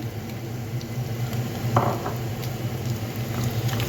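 Carrots being stirred into meat in a pot over medium heat while making plov, with a steady low sizzle and faint scraping and clinking of the spoon against the pot.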